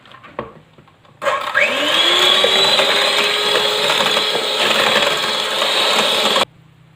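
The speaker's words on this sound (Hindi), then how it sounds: "अब क्रीम को बीट कर लेंगे हम।" Cream for a chicken pie whipped with a beater gives a loud, steady motor whine that starts abruptly, holds for about five seconds and cuts off just as suddenly.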